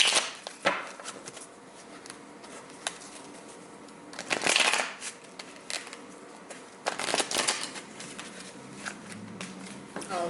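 Tarot cards being shuffled by hand in a quiet room, with soft papery riffles and several sharper slaps and crackles as cards spill, at close range and moderately loud.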